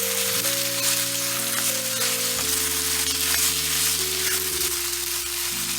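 Ground beef sizzles steadily in a hot pan as it is pushed around, a constant frying hiss with faint stirring scrapes, set under a sustained tonal music bed.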